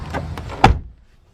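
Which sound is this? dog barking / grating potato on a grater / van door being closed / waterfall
van door being closed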